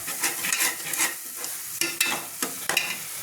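Masala sizzles and crackles in hot oil while a spoon stirs it for a country chicken curry, with sharp bursts of scraping and frying close by and no voices.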